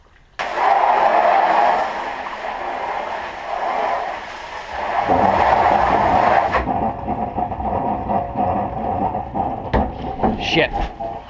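A household water pump runs loud and close, pulling from the same supply as a garden hose used to clean an aeration tank. It gives a steady droning hum that shifts in tone midway and then cuts off, leaving fainter background noise.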